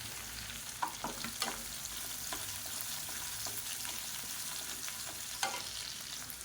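Chopped shallots and green chillies fry in oil in a pan for semiya uppuma, a steady close sizzle with a few light scrapes and taps of a stirring spoon scattered through.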